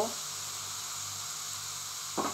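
Browned onions for Bengali masoor dal with jute greens, sizzling steadily in a hot pan, a low continuous hiss with a short louder burst near the end.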